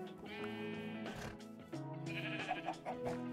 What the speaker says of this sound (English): there's just an insane amount of sheep in here that we need to get out of the castle grounds